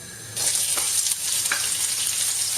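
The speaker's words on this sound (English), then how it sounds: "we're going to start with frying the onions" Sliced onion dropped into a hot pan of oil with cumin seeds, bursting into a loud, steady sizzle that keeps crackling close by with faint stirring, no talking.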